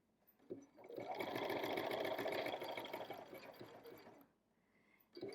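A sewing machine stitches picot edge elastic, running steadily for about three seconds before slowing toward the end of the seam, then briefly starting again.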